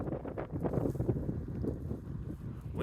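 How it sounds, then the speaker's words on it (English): Wind gusting outdoors after a snowy blizzard, a broad rushing roar buffeting the microphone steadily and close, with no voices. "Wind blowing every now and then."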